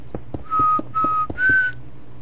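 A person whistles three clear sustained notes in a row, each held about a quarter second, with soft tapping beats in the background.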